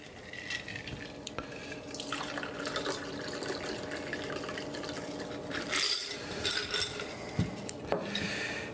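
A festive red Valentine's cocktail poured through a strainer into a glass, giving a steady close trickle and splash of liquid with a few brief drips and clinks, alone without talk.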